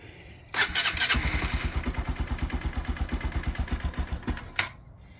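A Honda engine cold-starts on choke after sitting for three months: a short cranking burst, then it catches and settles into a loud, steady, rapid idle thump before cutting off with a final pop.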